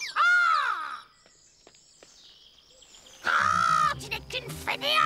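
A cartoon bird caws in an animated fairy-tale scene, one loud, harsh call at the start, then a pause and a second burst of squawking calls close up.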